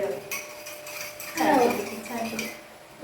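A pan is set down in a home kitchen with a metallic clatter and a few light clinks of cookware, close by, while a voice briefly speaks.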